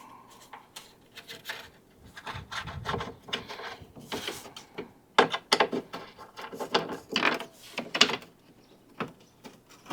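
Removing a T30 Torx bolt from a Jeep Gladiator tailgate in a garage: irregular close-up scraping, clicking and rubbing of a hand tool working the fastener, in uneven bursts with short pauses, no talking.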